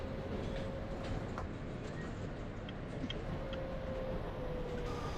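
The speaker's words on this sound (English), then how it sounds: "That's a moving train." An NYCT R160 subway train in the OpenBVE simulator rolls along in a steady broadband rumble with a faint tonal whine and occasional light clicks, continuous and fairly close, with no talking.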